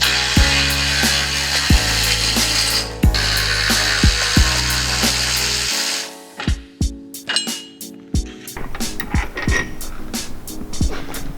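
Power tool, likely an impact wrench, loosening 15 mm cross member bolts on a Ford Focus RS, several loud bursts of rattling hammering early on, then lighter clanks and tool handling afterward.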